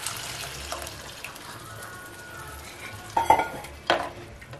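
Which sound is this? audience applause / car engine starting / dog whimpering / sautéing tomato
sautéing tomato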